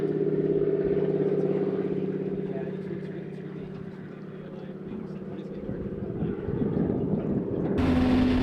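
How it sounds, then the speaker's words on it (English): A low-flying aircraft passes over a river upstream, a steady droning engine roar that swells and fades slightly, with a brief louder burst near the end. "we're making a low flyby just upstream above"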